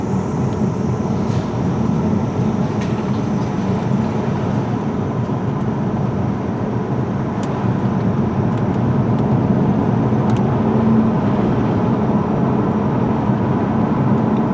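A 2011 Audi A4 B8 on the move, heard as a steady broadband road and engine rumble with tire noise, continuous and even throughout with no talking.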